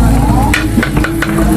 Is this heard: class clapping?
no